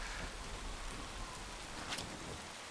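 Steady rain falls continuously, a dense hiss of drops spattering on a surface, with no voices.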